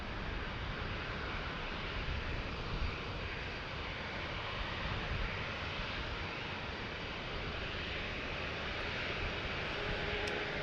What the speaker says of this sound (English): British Airways going back home to London.